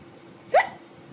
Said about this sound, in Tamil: போன விக்கல் இப்போதான் வரணுமா